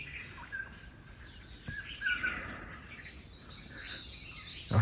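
A bird in the leopard country near Islamabad calls close by, with a thin whistle and then a run of bright chirps over faint outdoor background noise.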